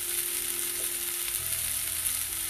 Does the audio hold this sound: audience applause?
no